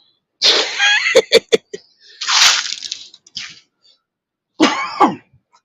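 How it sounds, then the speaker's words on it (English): A man coughs in three harsh, loud bursts close by: a rapid rattling run of coughs, then a long raspy hack, then a final short burst, with brief silences between. "I ain't cough like that in a hot minute."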